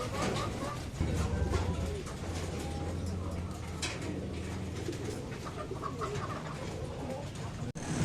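Racing pigeons cooing softly in a loft, low repeated coos close by, with murmuring voices and light rustling mixed in.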